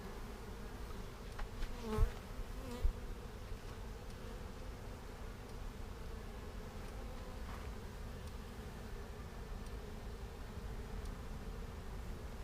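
A honeybee colony buzzes in a dense, steady drone during a hive frame inspection. The buzzing is continuous and fairly near, with a few brief knocks early on and no talk over it.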